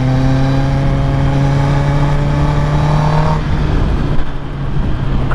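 A 2023 Kawasaki ZX-10R sportbike engine drones steadily at high revs while riding, loud and close with strong harmonic whine, then the pitch drops as it shifts and settles into a rougher rumble with wind noise.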